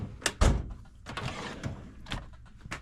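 A tool drawer in a tool room opens and closes with several quick sliding knocks and clunks, close and fairly loud, with no talk.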